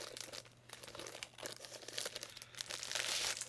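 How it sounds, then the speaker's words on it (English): A heavily taped package is torn open, crinkly ripping and rustling bursts up close, growing louder and more continuous toward the end. "I can't get the package to open because they got a little carried away with the tape"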